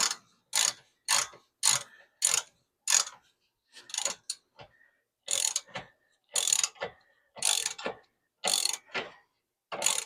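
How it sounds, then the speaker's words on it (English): A 1/2-inch ratchet loosens shock absorber bolts, giving about a dozen quick close-up bursts of clicking in a steady back-and-forth rhythm with short pauses between strokes and no talking. "That's going to require the 1/2-inch ratchet."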